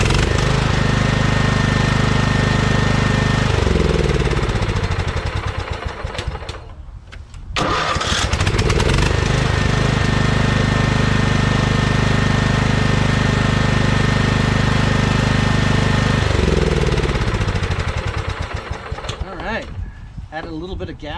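A Toro CR20E single-stage two-stroke snow blower engine runs loud and close, with a steady mechanical drone whose pitch drops briefly twice as the throttle is adjusted, and one short near-stall in the middle.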